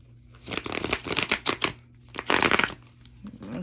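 A deck of playing cards is shuffled close by in a series of quick riffling and crackling bursts, two main flurries with a short pause between, fairly quiet and with no talk.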